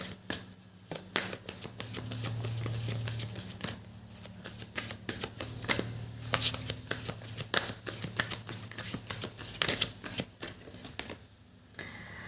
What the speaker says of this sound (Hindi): चलिए कार्ड को शफल कर लेते हैं।